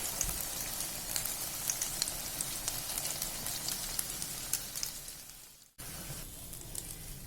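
Martabak telor frying in a pan gives a steady, close crackling sizzle with scattered pops. The sizzle dips briefly near the end, as if lifted or turned, then resumes.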